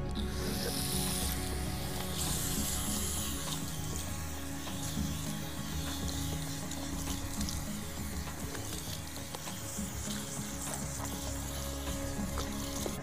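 Steady hiss of running water rinsing shampoo out of fine hair in a salon, continuous and close, with faint splashes and no talking.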